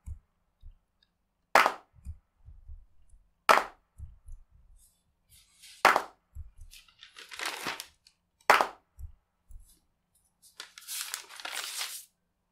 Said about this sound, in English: quite a nice natural sound of multiple claps playing at once